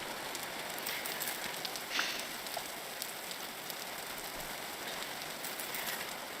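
Steady rain patters down in the survival video game Vintage Story, a soft continuous hiss of drops on the ground, fairly faint and even throughout, with no one talking over it.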